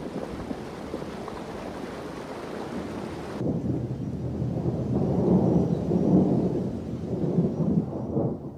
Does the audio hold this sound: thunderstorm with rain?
yes